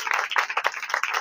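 A church congregation at a Christmas service claps together in a brief, dense burst of rapid, overlapping hand claps, fairly close and steady throughout.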